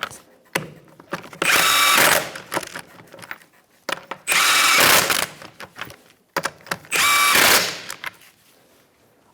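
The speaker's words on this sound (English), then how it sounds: "we're going to tighten it in a star-like pattern." A ratchet tightens the wheel lug nuts on a 2004-2009 Mazda 3 during a rear brake job, with three loud, close bursts of rapid clicking separated by short pauses and scattered clunks.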